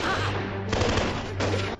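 Action movie gunfire in a scene with a fight against many terrorists: two loud bursts of rapid shots and crashes over a continuous low background rumble, close and dense, with no talking.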